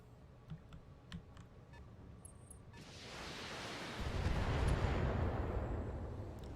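Mech weapons fire in the BattleTech strategy game: quiet clicks and faint ticks give way midway to a swelling roar of heavy impacts and blasts that stays loud to the end.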